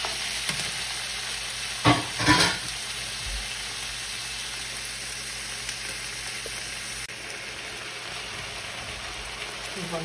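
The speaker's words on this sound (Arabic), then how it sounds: "بعدين بخلطها مع البصل والثوم لمدة 3 دقائق" Chicken fried and stirred in a pan with onion and garlic for a macaroni béchamel, giving a steady sizzle throughout with a few louder stirring scrapes early on and no talking.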